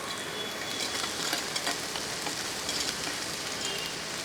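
Drumstick flowers and onion fry in a pan for a Kerala-style muringa poovu thoran, giving a continuous close sizzle with faint crackles and soft stirring scrapes, and no voices.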